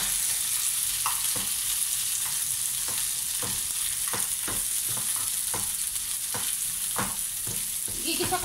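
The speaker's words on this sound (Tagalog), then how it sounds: "Lagyan na natin yung ating sibuyas," Onions hit hot oil that already holds garlic, at the start of a mung bean stew. A steady loud sizzle of frying runs throughout, broken by scraping stirs of a utensil against the pan at a regular pace, with no voices.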